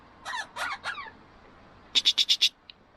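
Parrots at an eco farm in the Carpathians near Kolomyia, giving three harsh squawks followed by a quick run of five sharp, loud calls and a short chirp, close by and clear.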